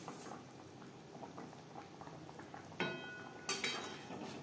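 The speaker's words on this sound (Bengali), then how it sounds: "গ্রেভি ফুটে ওঠা পর্যন্ত অপেক্ষা করব।" Pabda fish curry gravy bubbling in a pan, a soft steady simmer with small pops, then a couple of brief metallic clinks of a utensil near the end.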